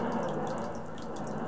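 Water draining out of a room in the Zelda: Ocarina of Time video game makes a steady rushing, gurgling flow with light dripping on top, continuous throughout.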